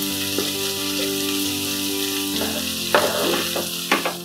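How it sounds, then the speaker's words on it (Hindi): Mixed vegetables sauté gently in a pan over a low flame, a soft continuous sizzle with a few scraping stirs and light clatters toward the end, no voices. "अब इसको हल्का सा हम सॉटे कर लेंगे।"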